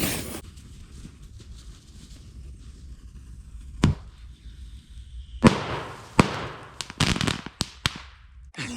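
Fireworks set off against a rotted tree crack and pop in sharp, loud bursts, a few isolated bangs followed by a rapid cluster of reports, with quiet outdoor background between them.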